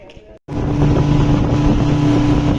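A tour boat's motor drones steadily and loudly on a cold reservoir reached by a long stairway down into a cave area, starting abruptly after a brief moment of quieter sound, with wind buffeting the microphone.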